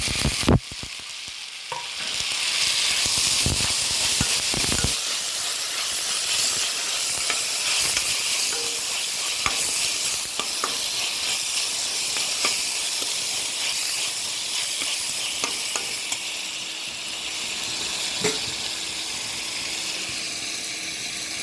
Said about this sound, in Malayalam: ഈ സമയം തക്കാളിയും ക്യാരറ്റും കറിവേപ്പിലയും കൊടുത്തെടുക്കാം